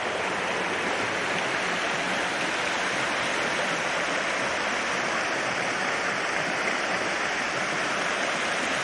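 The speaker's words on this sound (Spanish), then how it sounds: "Ahora nos encontramos un arroyo." A flowing stream rushes in a steady, dense wash of water noise, close and loud throughout with no voices.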